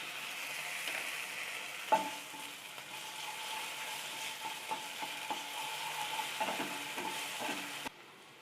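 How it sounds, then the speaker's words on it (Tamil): Onions sautéing with ginger garlic paste in a pan for masala pasta, a steady soft sizzle broken by scattered scraping stirs and one sharper knock, close and fairly quiet with no talking. "வெங்காயம் நல்லா வதங்கணும்."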